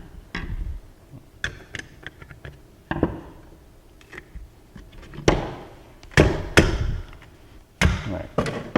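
An Ideal Conceal .380 pistol being torn down as a part is pounded out of it: a series of sharp, irregular knocks and thuds close by, with quiet gaps between the blows.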